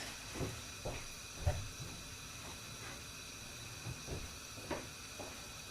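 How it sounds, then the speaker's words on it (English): A pot of seafood chowder made with stock and smoked seafood comes up to the boil with a faint steady hiss and soft, scattered bubbling pops. "So that's beginning to come up to the boil."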